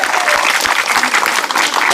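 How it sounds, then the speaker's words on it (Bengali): A crowd of spectators claps loudly for a contestant at a football-kick challenge game, sustained dense applause with a few sharper claps standing out. "আমাদের এই প্রতিযোগীর জন্য জোরে করে একটা করতালি হয়ে যাক"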